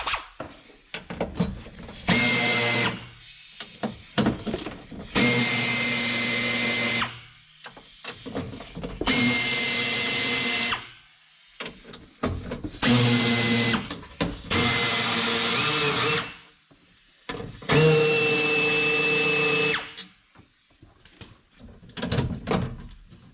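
A power drill removes bolts from a Honda Accord, running in repeated loud bursts of whirring a few seconds each, separated by short pauses and clanks, with no talking.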